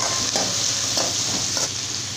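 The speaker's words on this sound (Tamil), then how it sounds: "தக்காளி இப்போ இதெல்லாம் சேர்த்துட்டு நல்லா இந்த மாதிரி வதக்கி விட்டுறலாம்" Tomato, curry leaves and green chili sauté in a pan for Chettinad chicken gravy, a bright continuous sizzle broken by regular stirring scrapes roughly every half second, close and fairly loud, with no voices.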